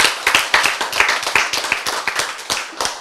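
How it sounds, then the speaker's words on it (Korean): A crowd claps in a steady run of sharp, overlapping hand claps for about three seconds, moderately loud and close, with no talking over it. "박수."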